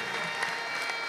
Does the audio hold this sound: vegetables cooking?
no